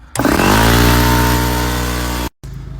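An air compressor in a Vauxhall Combo van runs loud and close, a harsh steady motor drone that starts abruptly, holds for about two seconds, then cuts out with a brief hiss afterward.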